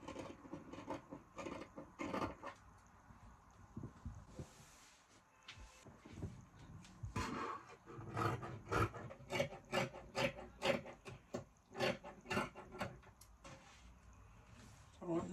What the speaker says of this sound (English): I will go ahead and cut it out. I will cut the back neckline.